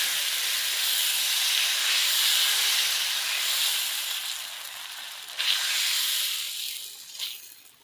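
Dosa batter is ladled onto a hot pan and sizzles in a loud, steady hiss. The hiss fades slightly toward the end with a couple of small flare-ups, heard close with no talking.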